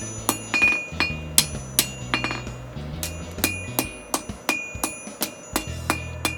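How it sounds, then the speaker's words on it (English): A hammer rings out in a steady series of sharp metallic strikes at a forge, straightening a hot steel nose punch, with bright clanging blows following one another quickly and close by. "Now I'm straightening out the rest with my hammer."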